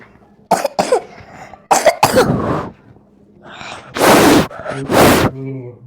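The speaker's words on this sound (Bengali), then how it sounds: "কাশি চলে" Several harsh, close coughs with gasping vocal sounds between them, ending in two loud, broad coughing bursts in quick succession.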